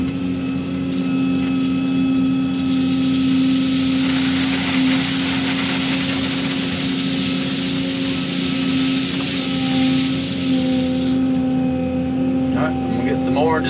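A tracked excavator working back and forth while backfilling a pool excavation with rock, its steady diesel engine drone running loud and continuous throughout, with faint clanks and track noise near the end.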